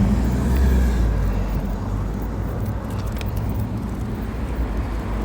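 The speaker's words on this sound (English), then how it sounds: "we'll cross here after this car" A car drives past on a town road in Caerleon, a steady broadband rumble of engine and tyres that stays loud and close throughout before easing slightly.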